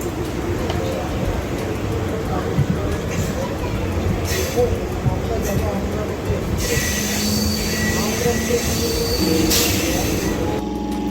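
A train rumbles along with loud metallic wheel squeals and clatter, people talking nearby over the steady noise.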